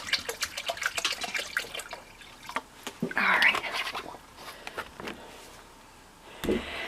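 Water is poured into a container in a room, heard as faint, uneven splashing and trickling in short bursts with brief pauses, close by.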